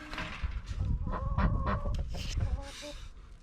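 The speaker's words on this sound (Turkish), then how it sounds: "Bu da benim en sevdiğim tavuk civciv." A young chicken chick calls with a series of short, close, tonal cheeps and clucks in an irregular rhythm, with some background rustling.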